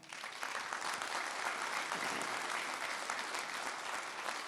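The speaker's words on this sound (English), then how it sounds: "Jackie Bray, a round of applause as well." A convention crowd of firefighters applauds a speaker in a large hall, a dense, even stretch of clapping heard from a distance, steady and moderately faint throughout.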